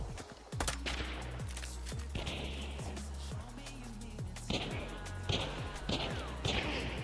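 Gunfire in the video game Hunt: Showdown, a rapid run of sharp, booming shots and cracks with echoing tails, loud and close, scattered irregularly across the stretch.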